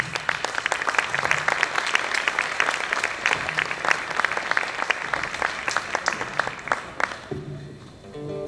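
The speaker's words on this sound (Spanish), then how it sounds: "Y les quiero pedir un fuerte aplauso para recibirlo." Audience applause greets a performer arriving on stage at a cultural cooperation event in Havana, a dense, steady round of clapping for about seven seconds that drops away near the end as a voice begins.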